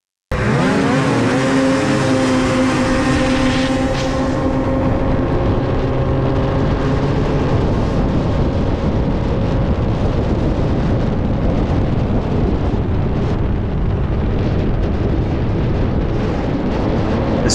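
A racing snowmobile at a LOON100 race on Portage Lake, Maine, roars loud and close with its engine, the throttle surging and easing in long continuous waves as the sled is fought through corners, without any talk.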